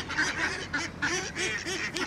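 Several ducks or geese honk and quack in quick, uneven bursts, fairly close and loud, with no voices.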